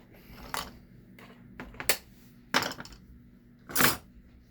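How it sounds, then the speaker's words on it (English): Real wire cutters snip through wire in four sharp, close metallic clicks spaced about a second apart against a quiet background. "now we've got real wire cutters. Clean cut, doesn't shoot it across the room"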